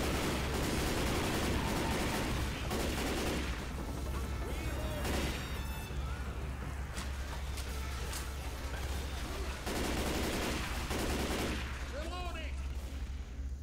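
Sustained minigun fire in a video game, a dense continuous roar of rapid shots with bursts and crashes, loud and constant, with voices shouting over it.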